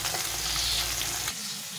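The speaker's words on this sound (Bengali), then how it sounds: "এই মাছগুলো ভাজতে দিয়েছি, মাছগুলো ভাজা হচ্ছে" Fish fried in a pan of oil for a Bengali fish curry, a steady dense sizzle that runs loud and close and then drops to a quieter crackle in the last half second, with no voices.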